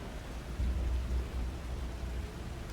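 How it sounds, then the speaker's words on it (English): Rain and rolling thunder with ominous music in the animated series Castlevania: Nocturne, a steady wash of rainfall under a deep rumbling low end that swells partway through, with no voices. "Rain and ominous music."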